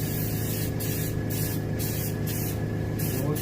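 An airbrush or spray gun hisses steadily while laying a light coat of paint on a striper fish mount, close and continuous, with slight pulsing over a low electrical hum and no talking.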